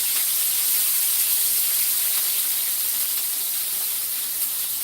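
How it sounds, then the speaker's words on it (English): Tomatoes and onions hit a very hot pot and set off a loud, even sizzling hiss that holds steady from start to finish with no pauses and no talk. "So I'm just gonna add some onions. I'm going to add the tomatoes."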